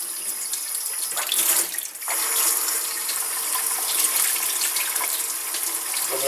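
Steady running water from a tap, a continuous broadband hiss with a brief splashy surge partway through.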